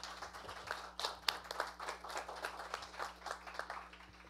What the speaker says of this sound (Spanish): para quien yo les pido este primer aplauso de la mañana